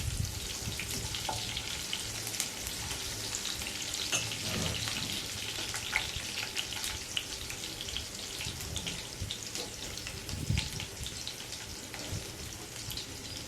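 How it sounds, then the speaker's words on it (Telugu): A small, finely chopped onion sizzles and fries in hot oil with cumin seeds, a steady broadband crackle holding at an even level throughout, with occasional stirring and faint clinks near the pan. "సన్నగా తరిగి పెట్టుకున్న ఒక చిన్న ఉల్లిపాయ, ఇది కూడా కొద్దిగా ఫ్రై చేసుకోవాలి"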